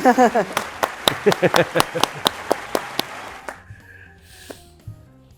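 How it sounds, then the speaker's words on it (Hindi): A dozen or so sharp hand claps fall in a loose, steady rhythm over about three seconds, close and clear. Talking can be heard at the start, and softer sounds follow once the clapping ends. "तालियां भी बजाते हैं।"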